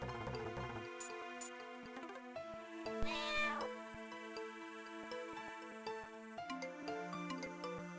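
A cartoonish cat meows in a veterinary video game, several tonal mews over steady game music and ticking effects, fairly faint, with no talking.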